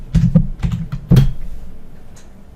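Quick bursts of keystrokes on a computer keyboard while a password is entered, close and crisp with irregular clicks clustered in short runs, then tapering off into quiet.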